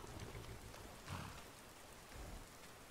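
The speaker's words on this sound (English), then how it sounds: "Oh, good. It's raining as well." Steady rain in Skyrim, a soft continuous hiss of falling drops with a couple of low swells, faint and alone without talk.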